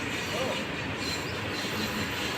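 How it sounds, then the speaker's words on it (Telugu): A train passing near a hillside spot at a temple fair, a loud, steady rumble of rolling wagons with faint wheel squeal and rhythmic clatter, close by and continuous. "అటు ట్రైన్ సౌండ్"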